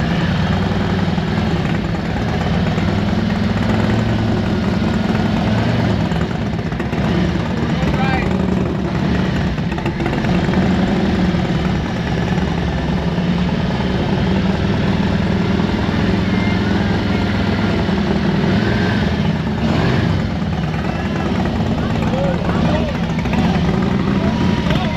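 A Harley-Davidson Dyna motorcycle engine runs steadily at a low, rumbling idle through a slow race, loud and close the whole time, with people talking over it.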